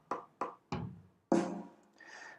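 Snare drum hits from Guitar Pro 7 software playback, several crisp strikes: two quick hits, a third, then a heavier, longer-ringing hit and a softer trailing tone, clean and close with no voices.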